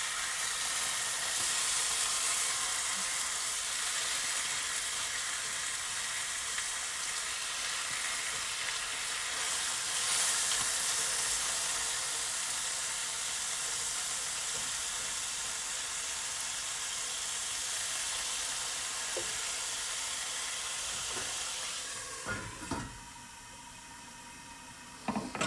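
Bacon sizzles steadily in a frying pan, a dense close hiss and crackle that continues for most of the stretch, then a few soft clicks and knocks of handling near the end with no talking.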